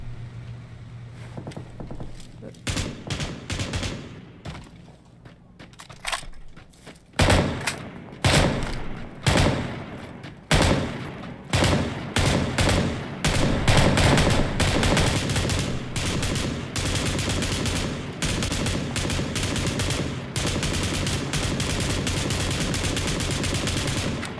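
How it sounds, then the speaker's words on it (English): Repeated gunfire at a shooting range in the PUBG video game: sharp single shots and rapid bursts, close and loud, growing denser into sustained automatic fire with no talk over it. "There's even a shooting range, which we might get out and have some practice shooting."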